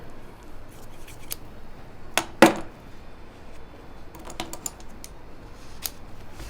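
Scissors snip into fabric to make a small center cut for a shirt collar, giving a few sharp close clicks and crisp snips scattered over a quiet background.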